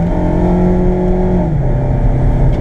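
Mazda MX5 engine held in second gear on a damp road, a steady loud drone whose pitch holds and then drops slightly as revs fall, continuous throughout with no talking.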